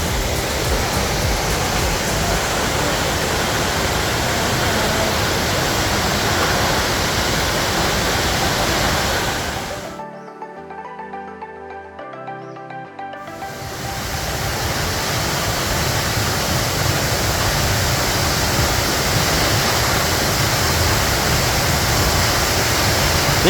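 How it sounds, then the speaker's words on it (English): A loud, steady roar of a 400-foot waterfall on Hawaii's Pipiwai Trail fills the air, broken by a brief near-silent gap of about three seconds before the rushing resumes. "You can hear it a long ways away because that water's dropping 400 feet."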